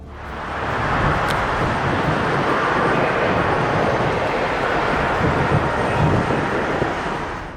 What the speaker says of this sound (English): As the aircraft accelerated down the runway, it quickly reached rotation speed, lifting off much sooner than expected.